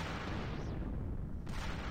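Dense, continuous explosive rumble of bomb blasts in the Bomberman Live video game, loud and unbroken, with a sharp burst of a fresh detonation about three quarters of the way through.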